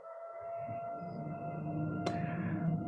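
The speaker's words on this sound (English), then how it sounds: "The air raid sirens are going off." Air raid siren sounding during a tornado watch, a steady sustained wail heard indoors from a distance, holding level over a murmur of room noise with a brief sharp click partway through.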